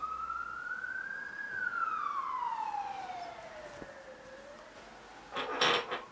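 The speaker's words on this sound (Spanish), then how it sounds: "La ambulancia." An ambulance siren passes, a single long wailing tone rising and then slowly falling in pitch, moderately loud and fairly close, ending with a short burst of clattering noise.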